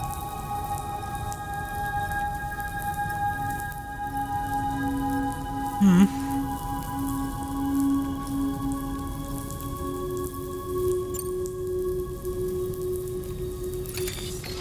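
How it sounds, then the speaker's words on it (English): Steady patter of rain falling in Death Stranding 2 under a low ambient hum and tonal music, with a brief soft splash or thump midway. "It's raining in my house."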